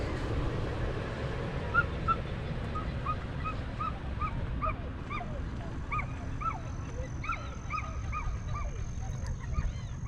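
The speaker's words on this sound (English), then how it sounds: "you hear so many different birds out here." Many small birds chirp and call repeatedly outdoors at a ranch campsite in Colorado, their short bright calls scattered over a steady low rumble of wind or background noise.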